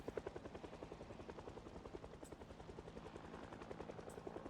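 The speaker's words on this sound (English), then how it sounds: "I was hoping to get down to Rosewood to use this helicopter to draw zombies out" A video game helicopter in a zombie survival setting, its rotor thudding in a steady rapid chop that stays loud and close throughout, with no talk.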